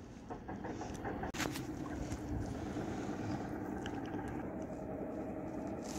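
Kayak out alone on the Hatta Dam reservoir in the UAE desert, with steady wind and water noise throughout and a brief sharp knock near the start, no talking.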